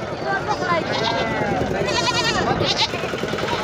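Goats bleat repeatedly at a busy livestock market in Sangola, wavering cries layered over a steady crowd murmur and nearby people talking.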